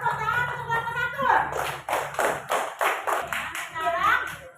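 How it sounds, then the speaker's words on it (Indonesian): Classroom children in a fourth-grade maths lesson clapping together in brief bursts, close and loud, with a voice and adult talk mixed in around the claps. "Tepuk tangan untuk Bapak Satu"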